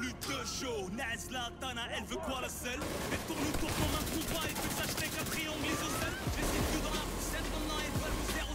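Gunfire from the exotic Backfire weapon in Division 2, rapid automatic bursts over a busy game soundscape, with someone talking over the shots.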